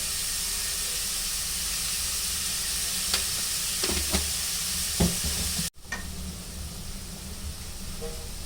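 Sliced onions with green chilies and salt sauté in a pan for a chicken stew, giving a close, steady sizzle broken by a few spoon scrapes and clinks, with a brief dropout partway through.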